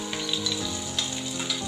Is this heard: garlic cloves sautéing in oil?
yes